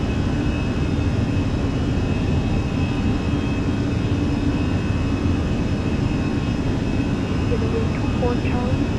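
A Fenix A320 airliner on its takeoff roll in Microsoft Flight Simulator, jet engines holding a loud, steady broadband roar with a thin whine on top, while a voice calls out over it.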